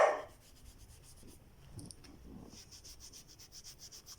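A cloth dabbed with toothpaste rubs dirt from rubber shoes, producing faint, close, rhythmic scrubbing strokes that grow steadier toward the end.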